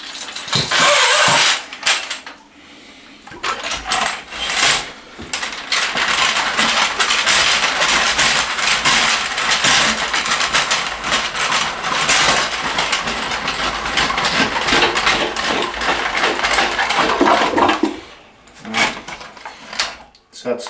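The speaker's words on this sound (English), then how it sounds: "We're going to be using the rigid auger." A Ridgid drain auger runs inside a clogged toilet, a loud grinding, rattling whir lasting most of the time with short pauses, while someone talks over it.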